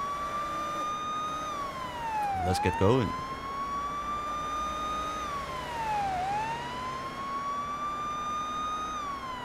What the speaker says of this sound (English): Let's turn our sirens on.